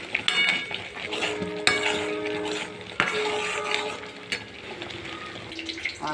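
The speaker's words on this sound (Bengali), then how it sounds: "করলা পেঁয়াজ দিয়ে একটা ভাজি হচ্ছে" Bitter gourd and onion frying in a pan give a continuous sizzle, broken by close clinks and scrapes of a utensil against the pan as they are stirred.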